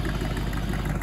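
A Jeep CJ5 engine fitted with a Quadrajet carburetor idles steadily at the roadside, a close, loud low rumble with an even pulsing beat and no voices.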